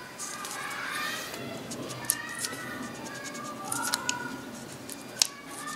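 Small plastic clicks and creaks as the cover of a Philips LED bulb is pried open by hand, a few faint snaps among soft rustling handling noise, close and quiet.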